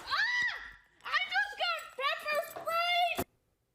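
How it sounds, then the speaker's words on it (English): A woman in D.C. screams after being pepper sprayed, in a series of high, strained wailing cries close by, each a second or less long, ending abruptly into silence. "that's the sound of a D.C. woman screaming"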